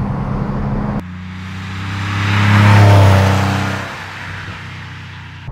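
A 1997 Porsche 993 Carrera 4S engine accelerates hard from inside the car, its flat-six note swelling to a loud peak mid-run before easing back to a steady drone, with no talking.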